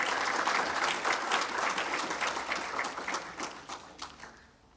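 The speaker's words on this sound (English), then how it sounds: "So a round of applause for them." An audience at the Actuarial Society of Zimbabwe 2023 convention gives a round of applause, a dense, even wash of many hands clapping that slowly thins and fades out over a few seconds.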